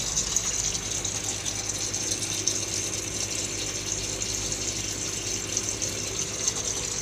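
A toilet cistern with a newly replaced float valve is flushed and refills, making a steady, close hiss and gush of running water with faint mechanical clicking underneath.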